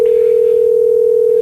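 A steady, unbroken telephone dial tone hums loud and close while a call is placed, constant in pitch with no pauses.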